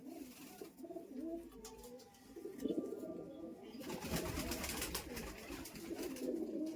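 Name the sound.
Giribaz pigeons cooing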